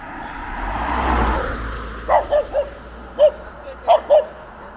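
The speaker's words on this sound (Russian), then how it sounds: "Харе гавкать. Ты просто так лаешь." Several short barks from a dog at some distance, in two loose bursts, over a steady low background rumble.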